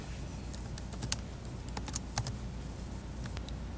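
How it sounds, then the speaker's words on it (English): Quiet clicking of a computer keyboard as a query is typed into a search bar, an irregular run of light taps over steady background hiss, no voices. "So first we start by typing in QVC"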